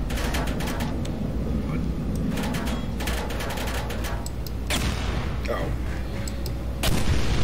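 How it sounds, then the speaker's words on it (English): Rapid bursts of gunfire in the video game Portal 2 crackle repeatedly, dense and sharp, with heavy artillery-like booms over a steady low rumble. "I can move it with the gunfire"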